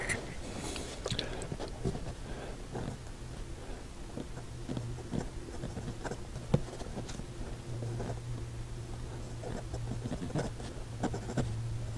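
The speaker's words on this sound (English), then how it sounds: "we can still get some writing out of it" A Caliarts Ego II fountain pen writes on paper, making soft scratchy strokes and small taps in an irregular rhythm, close and quiet with no talking.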